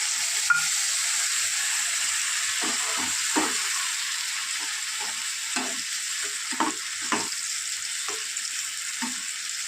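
Bitter gourd and prawn curry frying in a pan, giving a steady sizzle with repeated scraping stir strokes after a little water is added.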